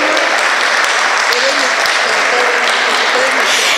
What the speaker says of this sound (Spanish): diputada Jennifer Rubio Tello, para quien pido un fuerte aplauso, por favor.